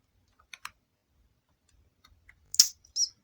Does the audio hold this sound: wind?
no